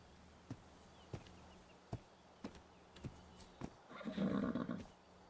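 A horse in ARK: Survival Evolved gives a short whinny near the end, after a series of sparse, sharp thuds spaced about half a second apart.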